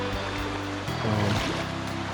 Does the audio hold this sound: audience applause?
no